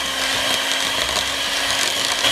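Electric mixer beating an egg into a butter and sugar mixture for lemon pound cake, a steady continuous whirring drone held throughout without a break.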